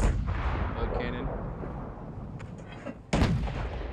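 Booming cannon blasts in the VR game Sail VR during a warship battle, a heavy rumbling report that fades out before a second sharp blast hits near the end.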